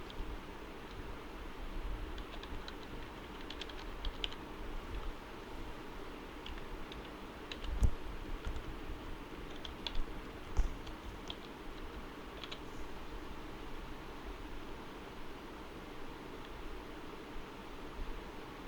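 Assembly language code is typed on a computer keyboard, with scattered soft key taps and a few louder clacks over steady background hiss.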